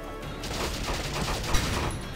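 Dense, continuous gunfire and crackling battle noise fill a skirmish in the video game Valkyria Chronicles, loud and unbroken with one sharper burst partway through.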